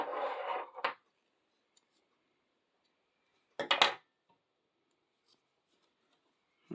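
Scissors snipping crochet yarn close up: a short burst of cutting, then a second brief snip a few seconds later, with quiet between.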